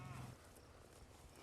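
A cow gives a short, low moo at the very start, faint and brief, amid livestock being worked with horse and ATV, then steady low background noise follows.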